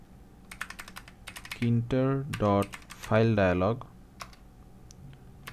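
Rapid keystrokes on a computer keyboard while Python code is entered, clicking in quick bursts around short spoken phrases, close and clear.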